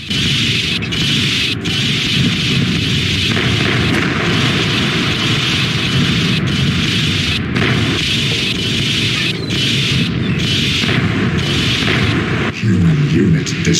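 Naval guns and explosions in the War of the Worlds strategy game make a dense, continuous roar of booming fire and blasts, loud and steady, with sharper bursts scattered throughout.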